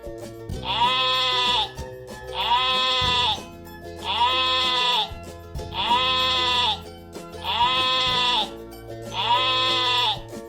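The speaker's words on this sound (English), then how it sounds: "Sheep. sheep माने भेड़।" A sheep bleats six times in an even, repeating rhythm, each call loud, close and wavering, with short quiet gaps between them.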